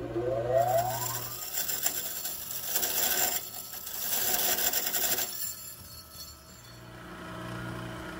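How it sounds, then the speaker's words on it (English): Bench grinder wheel being dressed, a motor spinning up with a rising whine, then a few harsh rasping, scraping passes across the wheel, fairly close and loud, with no talking. "Just make a couple of passes across to dress this wheel."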